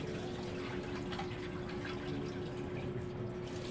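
Water runs and sloshes steadily in a pot as rice is washed at home. The sound is a continuous, fairly faint liquid rush with a low hum underneath and no speech.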